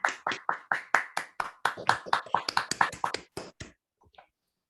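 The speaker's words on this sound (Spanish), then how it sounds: "Un fuerte aplauso." Roughly twenty distinct, evenly spaced hand claps from a small group or a single person, close and dry, fading out at the end; applause closing an academic conference talk.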